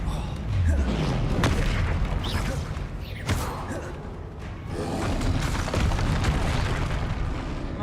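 A Bombarda blasting spell in the Hogwarts Legacy video game goes off amid combat, with booming explosive thuds, sharp impact cracks and a rumbling backdrop of battle effects, all loud and close.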